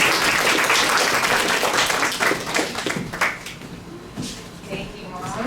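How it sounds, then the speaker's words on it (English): Audience applause for a speaker at a Founders Day event of a women's club, with a dense burst of clapping that thins out over about five seconds, alongside a few voices. "Clap it up for my mom, everyone."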